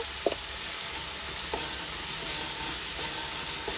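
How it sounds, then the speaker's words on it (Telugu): Tomatoes and onions fry in oil with ginger-garlic paste for a catering-style drumstick and cashew curry: a steady, close sizzle with a few soft knocks from stirring and no talking. "ఇది కూడా మగ్గించుకోవాలి ఆయిల్లో ఇలా టమాటాలు ఉల్లిపాయలు మగ్గేటప్పుడు ఒక స్పూన్ అల్లం అల్లం వెల్లుల్లి పేస్ట్ కూడా వేసుకోవాలి"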